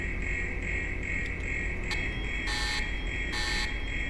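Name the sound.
alarm in a nuclear reactor management video game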